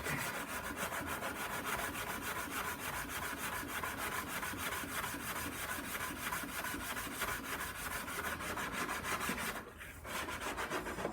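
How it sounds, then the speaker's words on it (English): A large flat sander rubs steadily across an aileron hinge part on a Pilatus Porter PC-6 aircraft. The rasping sound is close and continuous, with one brief pause near the end. "I'll finish it up with a large flat sander to make sure we are straight."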